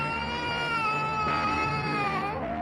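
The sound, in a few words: child crying sound effect in a horror story narration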